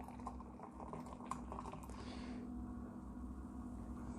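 John Smith's Extra Smooth widget beer poured into a big glass, a soft close fizz and liquid gush with brief splashy drips, settling into a quieter foamy hiss.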